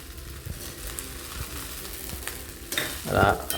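Sabudana khichdi stir-fried in ghee with salt, a close sizzling hiss under repeated scraping stirs that swell into a louder burst of frying near the end, with no talk.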